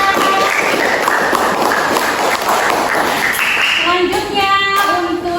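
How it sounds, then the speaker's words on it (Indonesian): Dense, loud clapping from an audience in a school presentation session, continuous applause for a student group with some voices underneath. "Tepuk tangan untuk kelompok 3."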